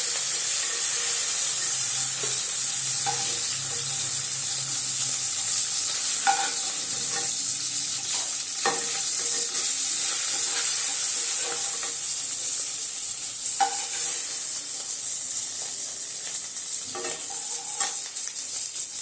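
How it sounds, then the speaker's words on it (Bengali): Hilsa (ilish) fish pieces fry in hot oil, a loud, dense, continuous sizzle and hiss with occasional soft stirring and tapping sounds, no talk. "মাছগুলোকে আমি হালকা করে ভেজে নিয়েছি ভাজা হয়ে গেলে এবার এগুলো তুলে নেবো"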